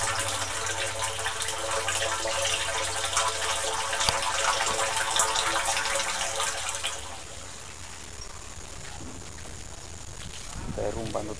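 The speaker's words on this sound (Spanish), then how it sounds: "Que ya se escucha el agua como cae, que está full ya rebotada, ya se está rebotando ya." Rainwater pouring through a vent pipe into a house: a steady, loud rushing and splashing that carries on for several seconds, then drops to a softer trickle, with no talk heard.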